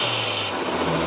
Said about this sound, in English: The blow off is so insane.